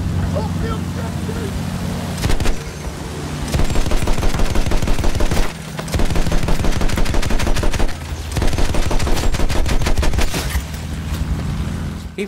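Sustained machine-gun fire in Battlefield 1 hammers in long, rhythmic bursts of evenly spaced loud shots, close and dominant, broken by short gaps, over a low engine-like drone and battle noise.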